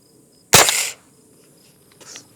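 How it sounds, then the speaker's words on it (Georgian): A single sharp gunshot rings out from a Kel-Tec SUB 2000 carbine firing 9x19 Luger, loud and close, followed by a brief decaying echo and a faint later clatter. "მოკლედ გასროლა იქნება 9-19 ლუგერი."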